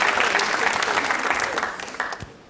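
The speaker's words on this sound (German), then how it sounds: "Applaus für unseren Mann mit Beinen." A studio audience claps for a man arriving on a comedy puppet show, brisk applause that starts strong and gradually thins out, with voices talking over it.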